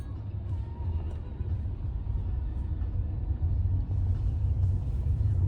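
An Audi A1 Sportback 1.0 TFSI pulls away on a road test, giving a steady low engine rumble heard from inside the car, continuous and fairly loud throughout with no talk.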